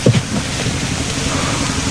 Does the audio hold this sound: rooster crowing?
no